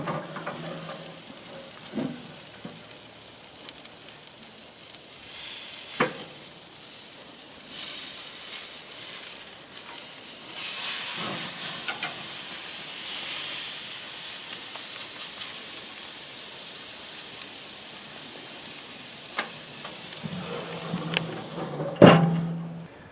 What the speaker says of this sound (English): So I'm going to flip it now and let it cook at a higher heat on the other side for a while.